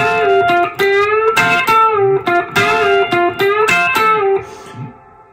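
Guitar imitates pedal steel with hybrid picking, the lowest note of each triad picked and the upper two plucked with the fingers, giving bent, gliding chord stabs in a loose rhythm, loud and alone, fading at the end.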